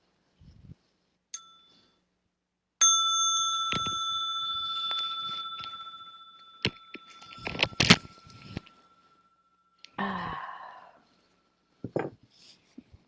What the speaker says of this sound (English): I'm going to invite the small bell for stretching and massage.